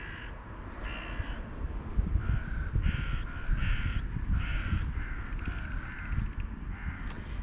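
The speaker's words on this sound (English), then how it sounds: "So, there's our little crows." Several crows caw repeatedly in harsh bursts, fairly close, with a soft voice briefly speaking underneath.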